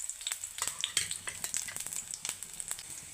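Chopped garlic fries in hot oil in a pan for an egg and spinach stir-fry, giving a steady close crackling sizzle with dense pops and sharp spits throughout.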